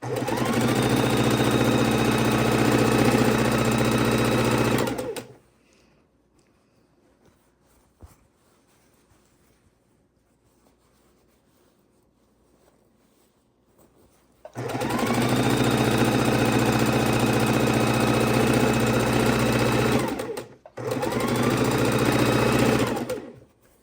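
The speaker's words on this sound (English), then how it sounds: "you want to make sure you're sewing straight" Sewing machine stitching fabric scraps for a quilt, running loud and steady for about five seconds, falling silent for a long pause, then starting again in two long runs split by a brief stop.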